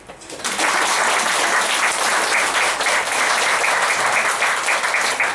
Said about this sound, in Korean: 그래서 여기 온거 우리 환영하는 박수